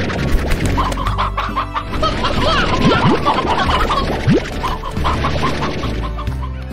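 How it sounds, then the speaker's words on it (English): Chickens in the Slime Rancher video game cluck and scratch about nearby in a busy, overlapping stream of short clucks, with a few sharp scrapes and thuds mixed in, over game music and fairly loud. "Why are all my chickens roaming around like this?"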